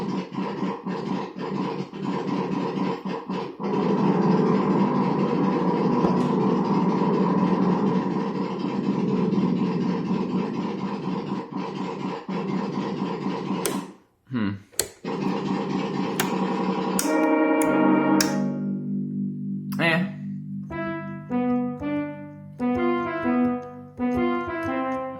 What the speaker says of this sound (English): the motorcycle sounds better dry, I'd say, but everything else was very enhanced by that reverb